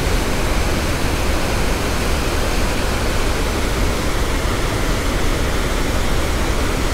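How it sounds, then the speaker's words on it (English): Water pours steadily over the sill of the Secord Dam spillway in mid-Michigan during low flow, a constant broadband rush heading downriver, loud and close with no breaks and no voices. "water going over the top of the sill and heading downriver"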